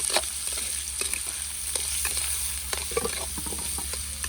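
Vegetables sizzle steadily in a pan on a wood-fired stove in a village home, a continuous close crackle broken by occasional stirring scrapes and clicks, with no talking.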